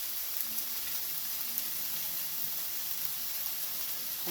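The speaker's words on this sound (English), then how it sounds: "I'm just going to break up the ground beef and put it in the pan" Ground beef fries in a pan for American chop suey, a steady, close, hissing sizzle with faint crackles throughout and no talking.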